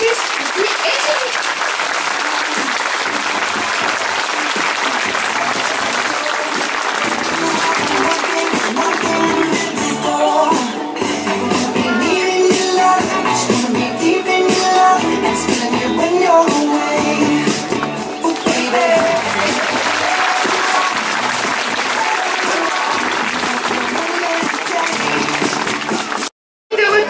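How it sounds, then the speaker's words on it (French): Zoo audience at a sea lion show applauding: a long, loud wash of many hands clapping, sustained for over twenty seconds with a presenter speaking over part of it and crowd murmur beneath. "Je pense qu'on peut applaudir très fort une fois de plus."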